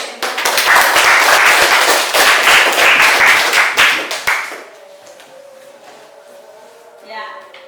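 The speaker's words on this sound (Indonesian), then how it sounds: "Berikan tepuk tangan kepada kita semua." Schoolchildren in a classroom clap together in a burst of quick, loud, close claps for about four seconds, then stop, leaving quiet room sound and a brief faint voice.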